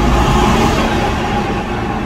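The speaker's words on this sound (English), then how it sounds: "I love how you can hear the turbos from the echo." A straight-piped BMW E60 530d diesel with stage 1 tuning drives past under load, its engine and turbos producing a loud, steady broadband roar with a faint whine, echoing in an enclosed space.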